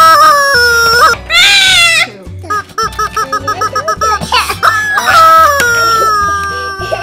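A squawking toy chicken from the Squawk Chicken game lets out loud, shrill squawks, with rapid rhythmic clucking bursts in between, very close and dominant.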